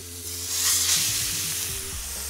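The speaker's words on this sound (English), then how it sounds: "I'm going to take this steak and I'm going to put it on the pan away from me" A porterhouse steak is laid into a smoking-hot pan of olive oil, giving a bright, hissing sizzle that swells quickly and then holds steady and close for a couple of seconds, with no voices.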